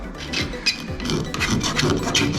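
A scraper blade rasps along the rubber seals of a VW T4 van's trunk lid, giving short, close, repeated scraping strokes.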